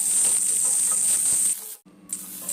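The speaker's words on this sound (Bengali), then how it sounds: "এরপরে সুগন্ধের জন্য খানিকটা কারি পাতা মিশিয়ে আরেকটু ফ্রাই করছি" Garlic, ginger, green chili and curry leaves sizzling in hot oil in a pan, a steady close hiss and crackle that cuts out briefly near the end before resuming.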